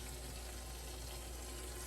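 Hot water running from a kitchen sink faucet during a home inspection, a steady, even hiss of flowing water with a low hum beneath, continuous and faint, no voices.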